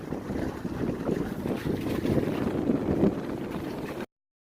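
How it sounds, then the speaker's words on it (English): Strong wind of about 20–25 mph blows at a fishing pier on rough water, buffeting the microphone in a continuous low roar with no talking. "It was super windy, at least 20-25 mile per hour winds."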